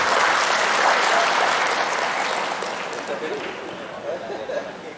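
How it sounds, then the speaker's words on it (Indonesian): Seminar audience at a parenting event in a school hall breaks into dense, steady applause, loud at first and gradually thinning toward the end, with faint crowd murmur mixed in. "kita berikan tepuk tangan"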